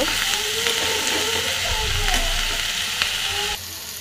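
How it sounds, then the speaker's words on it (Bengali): Food frying in a pan before pre-fried fish is added, a loud continuous sizzle with bubbling oil and occasional stirring clinks, easing slightly near the end. "এটাকে ভালোভাবে ভেজে নেব।"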